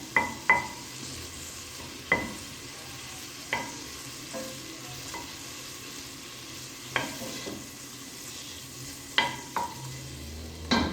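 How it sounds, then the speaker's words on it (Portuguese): Bacon sautés in a pan under a quiet, steady sizzle, with sparse sharp clicks of a utensil stirring and scraping the pan at irregular intervals, close and unaccompanied by talk. "Então eu vou refogar esse bacon"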